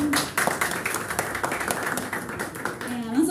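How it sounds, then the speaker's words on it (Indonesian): Audience clapping at an Indonesian public forum for young voters, a brief burst of dense applause with a voice speaking over it. "Tepuk tangan dulu dong."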